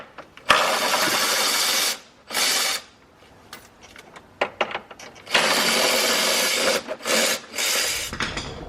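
Loud bursts of rasping, scraping work on the plastic underbody shield of a Hyundai Sonata Hybrid as screws are removed, coming in several long stretches separated by short pauses.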